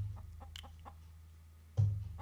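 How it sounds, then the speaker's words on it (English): Chicken clucking close by, several short soft clucks in an irregular rhythm followed by a louder burst near the end, over a low steady hum. "Cluck. Where's my cluck?"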